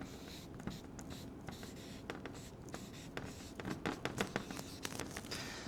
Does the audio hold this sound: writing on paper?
yes